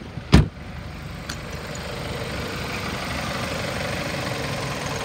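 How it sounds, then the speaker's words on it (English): A 2008 Ford Escape engine idling steadily at close range, a low even hum running throughout, preceded by a sharp single knock or click near the start. "Motor sounds good, it revs up nice"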